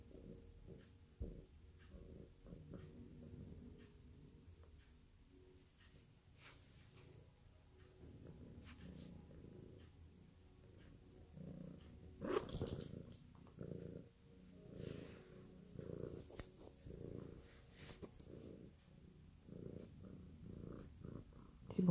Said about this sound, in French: Si vous entendez les ronronnements, c'est mon chat